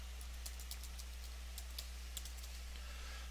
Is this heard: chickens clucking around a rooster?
no